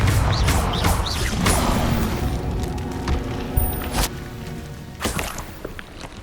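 Confringo spell blasts in Hogwarts Legacy, a string of sharp booming impacts and whooshing crashes repeating every second or so, loud and close with game effects layered between them.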